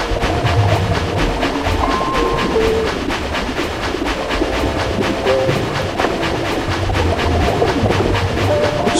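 A train called the Spirit Train rumbles steadily with rhythmic clickety-clack of wheels over rail joints, loud and close, with a faint whistle-like tone drifting through, no voices present.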